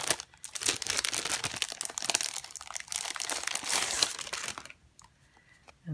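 Crinkly plastic packaging around a colored card from a Crafter's Companion card kit rustles and crackles close by in quick, busy handling, then goes quiet for a moment at the end.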